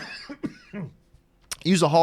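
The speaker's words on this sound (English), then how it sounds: "I'm starting to cough a little bit more." A couple of short, sharp coughs from a nearby person, separated by brief pauses, with talking picking up right after.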